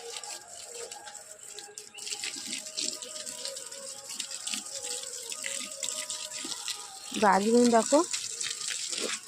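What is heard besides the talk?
watering garden plants with water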